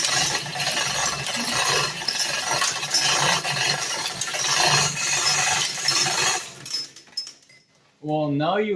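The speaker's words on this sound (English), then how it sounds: "Hear that clicking? That's the locks engaging." Clicking of the hoist locks engaging on an EZ-GO golf cart during engine removal, a dense ratcheting chatter running steadily for several seconds before fading out, followed by a brief voice.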